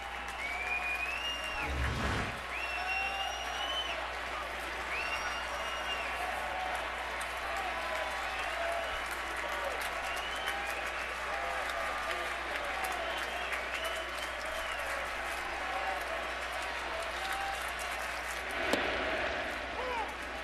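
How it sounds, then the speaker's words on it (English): Sellout stadium crowd at Yankee Stadium on its feet applauding Derek Jeter, a dense, sustained roar of clapping and cheering that fills the whole stretch, with a few louder bumps near the start and end. "And again, the warm round of applause"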